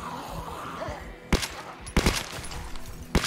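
M16 rifle gunfire in the zombie survival game Project Zomboid: three sharp, loud shots spaced apart, each a sudden crack over a quiet background hum.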